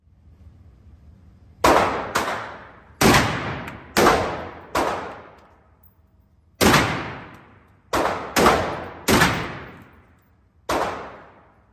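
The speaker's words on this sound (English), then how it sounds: "First, let me show the video of me shooting the shotgun" Shotgun firing outdoors, nine loud sharp blasts in irregular succession, each with a short decaying tail, no talk.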